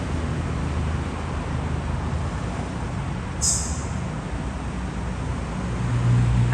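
An Isuzu car drives around a curve, heard from inside as a steady, loud road and engine rumble with a brief higher whine partway through and a slight swell at the end.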